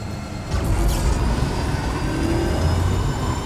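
Vehicle driving in the video game Death Stranding 2, hauling an 89 kg cargo load: a steady low engine hum and whir that swells at the start, then holds even and fairly loud.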